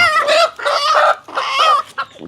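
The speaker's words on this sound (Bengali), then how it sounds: "এটা ডিম পাড়া হাঁস আমার এগুলি কতগুলো ডিম দেছে" Egg-laying domestic hens or ducks calling close by, three drawn-out clucking, crowing-like bursts followed by a shorter squawk, loud and alone with no talk.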